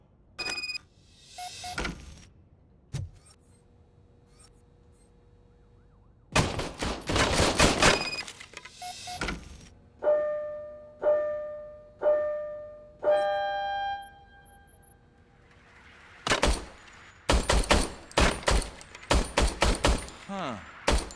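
An old police service weapon in Robocop: Rogue City fires in sharp, loud bursts and rapid volleys separated by quiet gaps, with electronic beeps and ringing tones between the shots.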